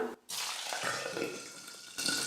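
Green chillies hit hot oil with mustard seeds, producing a steady, close sizzling hiss after a brief drop in sound, with a sharper flare of crackle near the end.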